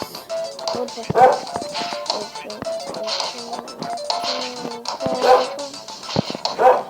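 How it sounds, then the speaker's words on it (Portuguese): Several dogs bark and yip in repeated bursts at a moderate distance, with quieter whimpers and background activity between them. "desculpe por esses cachorros estão latindo"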